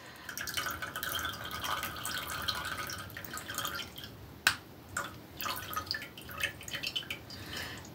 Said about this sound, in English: go ahead and drain the juice off of the pineapple